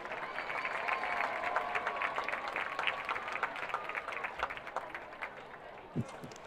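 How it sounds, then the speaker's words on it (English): A crowd at a high school homecoming court presentation applauds the sophomore prince and princess, with moderately distant, sustained clapping, a few cheers and murmuring voices, thinning toward the end. "Give a round of applause for your sophomore prince and princess"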